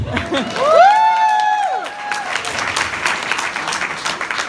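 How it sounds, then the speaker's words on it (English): A fan convention audience bursts into applause with a loud whoop at the start, then clapping continues steadily from a crowd. "Round of applause for Steve."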